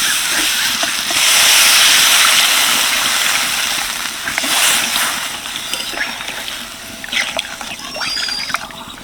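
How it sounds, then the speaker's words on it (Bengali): Water poured into a pan of bata fish curry with fried potatoes gives a loud splashing rush that settles into steady steaming hiss and faint bubbling, close by with no talk. "এবার দিয়ে দেবো জল।"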